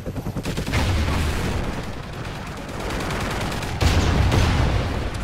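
Sustained automated turret fire rattles loudly in Call of Duty Ghosts on the multiplayer map Mutiny, a dense rapid stream of shots that briefly eases and then surges again near the end.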